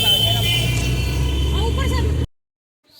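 Inside a moving car, a steady low engine and road rumble runs under muffled voices, then cuts abruptly to silence.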